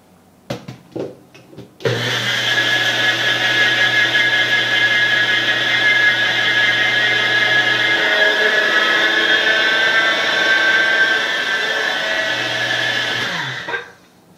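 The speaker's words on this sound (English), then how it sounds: "now we're going to grind it" A Nutribullet blender grinds millet and flaxseed, starting abruptly after a few small clicks and running as a loud, steady whining roar for about twelve seconds before cutting off.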